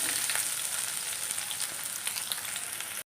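Cinnamon, cloves and star anise sizzle in hot oil for egg biryani, a steady close frying hiss with faint crackles and no talk, cutting off abruptly at the end.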